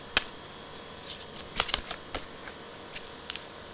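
A deck of tarot cards is shuffled by hand, giving a few crisp, close riffles and soft snaps spread across a few quiet seconds.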